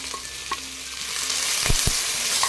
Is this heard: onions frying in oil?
yes